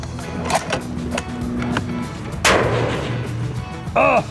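A rifle fired with iron sights at long range lets out one sharp, loud report midway, followed by a fading rumble, with mechanical clicks and shuffling before it and another brief clatter near the end.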